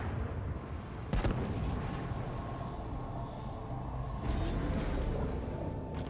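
Plasma cannon shots in Halo Infinite land as two sharp, booming blasts, the first near the start and the second later, over a constant rumbling backdrop of battle noise.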